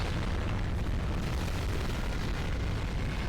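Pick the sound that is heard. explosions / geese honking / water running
explosions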